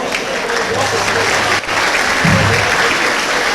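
Steady applause from a pub audience at a singing competition final, acknowledging an event sponsor, broad continuous clapping with a short dip midway and some crowd voices underneath.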